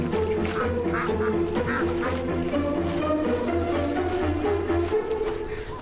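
Wild ducks quack repeatedly in a loud, continuous chorus, with many overlapping calls under a steady low hum from the surroundings.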